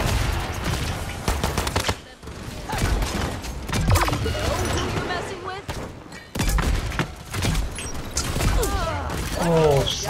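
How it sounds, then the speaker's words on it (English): Rapid bursts of gunfire and mechanical clatter in a Paladins match, with a sharp hit landing amid the shooting and someone talking over the dense, loud action. "Oh, somebody shot me."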